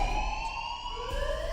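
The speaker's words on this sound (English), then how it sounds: "What? The alarms?" Alarm blaring in a video game: a sustained wailing siren tone that holds steady, then sweeps in pitch near the end, moderately loud and alone.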